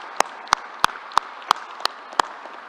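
A slow, evenly spaced run of about eight single sharp claps, a small sparse round of applause for the National Guard at a New York governor's news conference, with no crowd roar.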